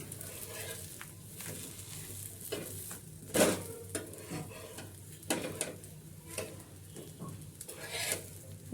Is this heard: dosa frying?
yes